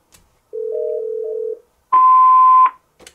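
Yealink desk phone handset after the All Page button is pressed, a short two-pitch electronic beep sequence followed by a louder steady high page tone lasting under a second, clean and isolated with faint clicks around it.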